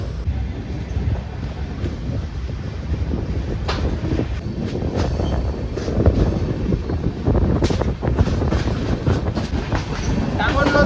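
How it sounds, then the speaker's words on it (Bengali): A passenger train pulling out of Buniadpur railway station, steady rumble and rhythmic clacking of wheels over rail joints heard from on board, with wind noise and building intensity. "গাড়ি এখানে দুই মিনিটই দাঁড়ালো এখন ছেড়ে বেরিয়ে যাচ্ছে বুনিয়াদপুর রেলওয়ে স্টেশন থেকে"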